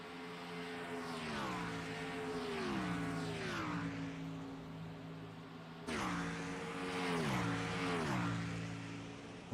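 Toyota Supra stock cars race past on the oval at Texas Motor Speedway, engines droning loud and steady, then rising and falling in pitch as they pass. A second wave of cars roars through midway.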